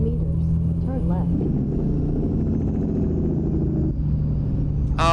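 A Caterpillar C15 diesel in an American Truck Simulator water tanker rumbles steadily low and close, with brief hissing and squeal bursts and someone talking over it.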